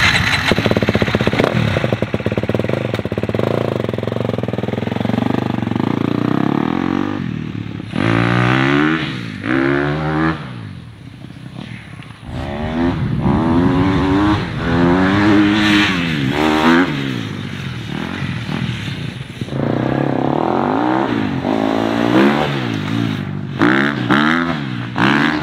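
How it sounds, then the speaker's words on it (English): A motorcycle at a dealership starts up and idles loud and close, then revs repeatedly in rising and falling bursts, with mechanical clatter underneath throughout. "Ahead and start up the bike now."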